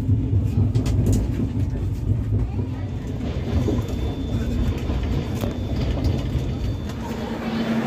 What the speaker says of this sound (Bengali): শতাব্দী ভুবনেশ্বর স্টেশনে ঢুকে পড়েছে, ওখানেই দাঁড়িয়ে আছে।